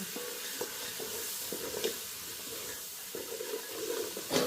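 Onions and spices sauté in a pan for Sri Lankan-style prawn biryani, giving a steady close sizzle and hiss with scattered stirring scrapes and a sharper clatter near the end, no talking.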